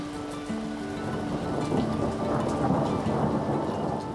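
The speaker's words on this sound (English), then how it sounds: "it only takes a rumble of thunder and a summer rain shower" Thunder rumbling through a steady summer rain shower, the rain hissing continuously as the low rumble swells and rolls on throughout, with no voices.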